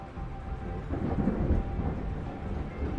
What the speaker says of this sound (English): Another juicy lightning storm.